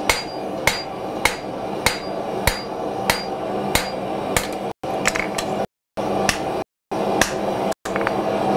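A hammer forges a steel spear with evenly spaced, ringing metallic blows. The strikes land roughly once every half second, are close and sharp, and come in short runs broken by brief pauses.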